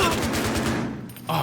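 An AKM assault rifle fires a rapid automatic burst in the shooter game Battlefield Hardline. The sharp, loud shots run back to back, then break off, with a voice coming in right at the end.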